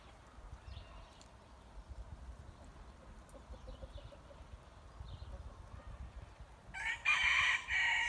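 Free-range village chickens and a rooster are heard outdoors: a faint crow rises in the middle and a louder, closer crow comes near the end, over soft rustling ambience.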